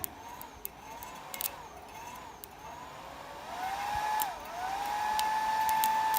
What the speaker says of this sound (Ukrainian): Включаю додатково фен 3 кВт.